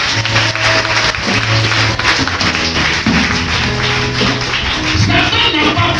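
A church congregation claps steadily to acclaim the Lord, a dense, loud wash of hand claps with rhythmic tapping and thumps, voices mixed in underneath.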